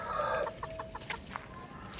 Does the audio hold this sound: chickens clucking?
yes